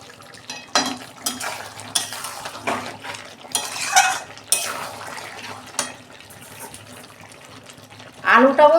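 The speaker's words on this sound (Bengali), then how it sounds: "দেখুন বন্ধুরা ঢাকনা খুলছি" A lid is lifted off a pot of home-style chicken curry after simmering, giving several close metallic clanks and scrapes among quieter kitchen rustling, with a brief tonal squeak near the end.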